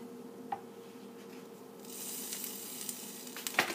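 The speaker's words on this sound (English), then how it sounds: "Just listen to that sizzle." A waffle sizzles in a waffle maker, a faint hiss that rises partway through and carries on softly, with a few small clicks, no talk.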